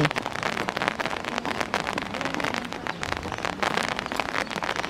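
Heavy rain pours steadily onto surfaces outdoors, a dense, close crackling patter of drops with no pause across the whole stretch.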